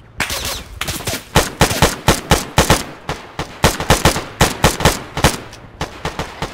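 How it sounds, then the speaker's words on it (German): Rapid bursts of automatic rifle fire in the military shooter ArmA 3, loud sharp cracks in quick irregular strings with brief gaps, close and unaccompanied by talk. "Atmo, erster Schuss, Totti, zweiter Schuss, der Rest Deckung suchen."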